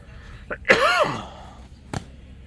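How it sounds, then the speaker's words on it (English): A couple of short, rough coughs or throat-clearing bursts close by, separated by brief pauses, with a strained vocal sound in the middle. "Sorry if I'm coughing."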